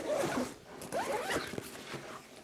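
A Tomtoc UrbanEX-T77 22L backpack's clamshell zipper is pulled open in a couple of quick, close ripping strokes lasting a few seconds, with no one speaking.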